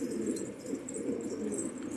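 Pigeons coo softly and repeatedly, low rolling calls overlapping in a quiet, continuous murmur, as if from a nearby flock or loft.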